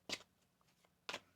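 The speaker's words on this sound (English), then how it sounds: "One more shuffle." Tarot cards shuffled in two quick, faint riffles about a second apart, close by in a quiet room.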